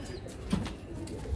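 A king-size breeding pigeon coos softly a few times, low and close, against a quiet background with light rustling.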